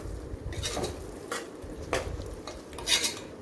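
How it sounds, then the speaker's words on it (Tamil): Chilli powder, turmeric and yogurt being sautéed in oil in a pan, heard as close, soft stirring scrapes and clinks of a utensil against the pan over a low frying hiss, with no voices. "மிளகாய் தூள் மஞ்சள் தூள் இந்த எண்ணெயிலே போட்டு நல்லா வதக்கலாம்"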